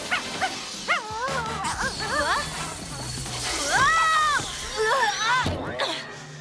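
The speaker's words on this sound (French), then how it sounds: "ce chien a une dent contre moi" A cartoon dog yips, barks and whimpers in quick, bouncy bursts, with splashy sound effects scattered between the calls.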